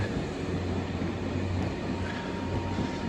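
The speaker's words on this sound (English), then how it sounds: "I hear a train." A train rumbles steadily and loudly nearby in Arles, France, a continuous low roar with faint high rail hiss and no breaks.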